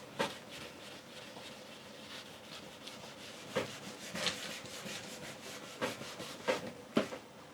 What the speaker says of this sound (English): I'll just wipe it back with a scraper just to make sure there's no lumps on there